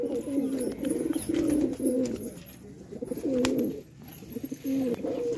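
Pigeons roaming outdoors in the evening coo in soft, repeated rolling phrases, fairly close, with faint ambient noise and brief clicks between the calls.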